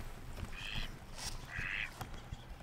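A duck quacks in two drawn-out calls outdoors, close and clear over a low rumble of background noise, with no talking.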